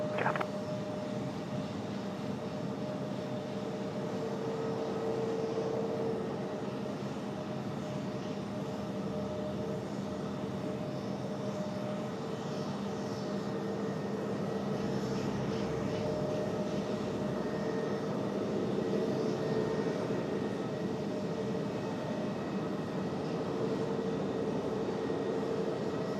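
An airliner at Raleigh-Durham International Airport powers up for takeoff, a steady broad engine roar holding loud and constant throughout with sustained tonal whine, no voices.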